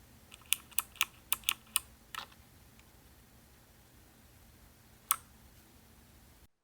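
Clicky key presses on a Motospeed CK61 budget 60% mechanical keyboard: a quick run of about eight sharp, close taps, a pause, then a single isolated click, with no talking.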